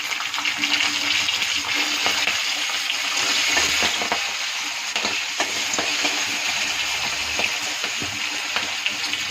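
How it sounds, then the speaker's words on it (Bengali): Black cumin seeds and a few peas sizzle steadily in hot oil, with a constant loud frying hiss broken by scraping stirs and small pops throughout. "এখন দিয়ে দিব কালো জিরা, কয়েকটা মটরশুঁটি ছেড়ে দেবো,"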